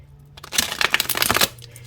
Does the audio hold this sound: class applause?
no